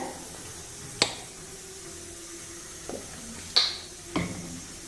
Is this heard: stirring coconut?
yes